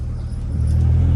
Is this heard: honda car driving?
yes